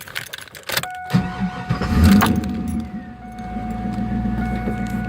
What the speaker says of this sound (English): so I'll start the car